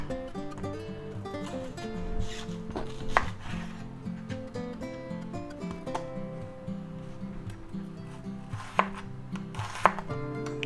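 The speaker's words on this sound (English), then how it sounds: "And we'll get our onion. And we'll go ahead and slice that up." A knife slicing an onion into big chunks on a cutting board, rapid repeated chopping knocks close up with a few sharper cuts standing out, all with no talking.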